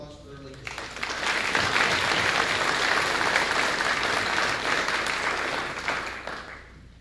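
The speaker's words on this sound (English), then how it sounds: "Let's give them a big round of applause for their leadership." An audience at a school FFA banquet gives a sustained round of applause, rising quickly after a brief spoken moment, holding steady as a dense wash of clapping for about five seconds, then tapering off.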